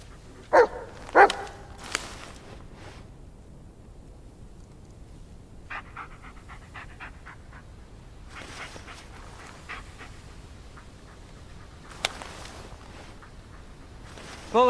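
A dog in the Blair Witch video game barks a few times near the start, then pants softly and yips intermittently, with a couple of sharper sounds later over a quiet, steady ambient background.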